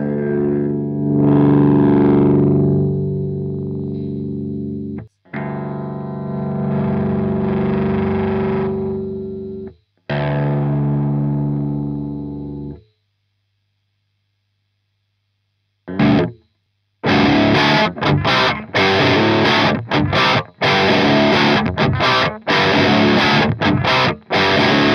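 Distorted electric guitar played through an overdriven Orange Dark Terror 15W valve amp, sustained chords and riffs with short gaps, then a denser crunchy passage with rapid strums.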